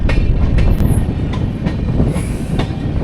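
Sairang Express passenger train running on the Kolkata to Sairang line, a loud, steady rumble of wheels on rail with rhythmic clicks and brief wheel squeals throughout, no voices.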